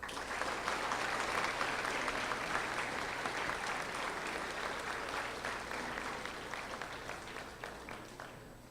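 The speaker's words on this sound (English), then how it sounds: "Another round of applause, please," Sustained applause from an audience at a 2019 school academic awards ceremony honoring achievement award winners, dense steady clapping that slowly thins and fades over several seconds.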